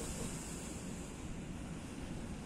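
Sea waves at Alexandria beach in front of the Sheraton hotel on the corniche, a steady faint wash of surf mixed with wind noise, continuous and without talk.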